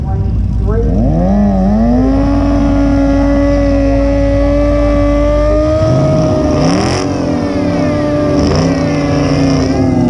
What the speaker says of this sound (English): A little burnout action.